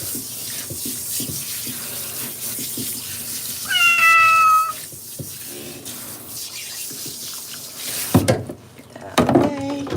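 A cat is rinsed under running tap water during a bath, the water streaming steadily at close range while the cat gives a drawn-out meow and a person talks softly.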